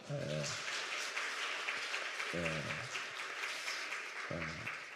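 Church congregation applauding Sunday school teachers during a Sunday afternoon service, a steady broad wash of clapping throughout, with a voice briefly speaking over it three times.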